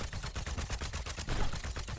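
Continuous gunfire from an Overwatch 2 game, a dense, rapid stream of shots rattling on without pause at steady loudness.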